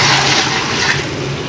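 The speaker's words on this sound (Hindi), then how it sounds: "अब हम इसमें जो है ना पानी ऐड करेंगे।" Water poured in a loud, continuous rushing stream into a large pot of potato, pea and carrot pulao, close and steady for the whole moment.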